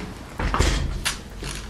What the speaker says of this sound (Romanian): Da, închide ușa, că e zgomot.